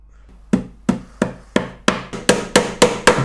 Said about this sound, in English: I'm going to start my nail in about sort of 1 inch from the edge, tack it in at a straight angle